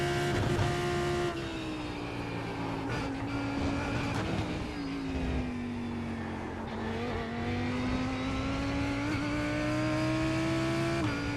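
A GT3 race car engine drones steadily at high revs around Suzuka in iRacing, its pitch dipping and climbing as the car moves through the gears, loud and continuous with no voices.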